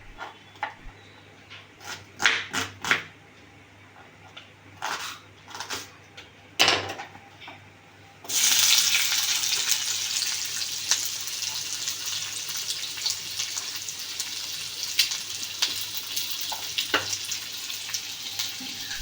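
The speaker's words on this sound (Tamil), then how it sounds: "சட்டியில் எண்ணெயை ஊற்றி ஒரு மீடியம் சைஸ் வெங்காயத்தை வெட்டி எடுத்து அதில் போட்டுடலாம்" Chopped medium-size onion drops into hot oil in a pan and sizzles loudly and continuously after a few quiet kitchen clicks and taps, with no speech.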